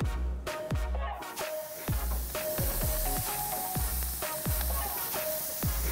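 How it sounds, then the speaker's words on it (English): Skirt steak sizzles steadily on a preheated grill, a continuous close hiss broken by repeated sharp metallic clacks and taps of tongs against the grate. "Got our grill already heated, and we're ready to throw our skirt steak, your baby, onto the grill"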